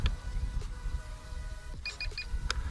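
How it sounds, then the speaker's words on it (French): Three short, high electronic beeps in quick succession near the end as a Volantex Ranger 750 RC plane initialises, over a steady low rumble of outdoor background noise. "J'ai eu trois bips, donc normalement il est initialisé."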